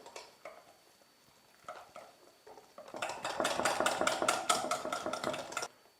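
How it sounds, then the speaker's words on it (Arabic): Sifted flour is worked into the other ingredients for a Algerian chebakia cigar pastry: a few soft scattered taps at first, then a steady, rhythmic run of scraping, stirring strokes close by. "ونعاود نفتح الفرينه مليح مع بقيه المقادير"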